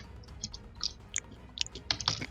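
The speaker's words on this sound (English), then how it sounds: "whoever that is chewing" Someone chewing close to a microphone during a tabletop role-playing game session, with soft, irregular wet mouth clicks and crunches scattered through a quiet background.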